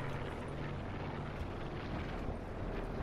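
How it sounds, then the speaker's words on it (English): A steady, droning video game helicopter rotor hum fills the clip, constant and moderately distant, with no voices over it. "Is that a helicopter?"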